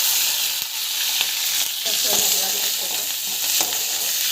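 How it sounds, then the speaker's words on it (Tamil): Onions and chana dal fry with mustard seeds in hot oil, giving a loud, continuous crackling sizzle with occasional stirring scrapes, close up and with no talk. "எண்ணெய் ஊற்றி கடுகு போட்டு வெங்காயம் நம்ம வந்து கடலைப்பருப்பு போட்டு போட்டுருக்கோம்"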